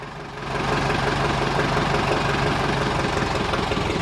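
An old Ford 5000 tractor engine with an added cylinder, fitted to a water-pumping setup, rumbles steadily and swells in a rev after a brief quieter start, with a dense, knocking low throb held close and loud.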